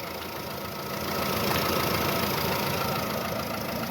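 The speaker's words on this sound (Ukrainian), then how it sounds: "двигун працює" A Skoda Fabia 1.4 MPI car engine idles steadily at close range, a smooth continuous hum with a faint ticking texture and no voices.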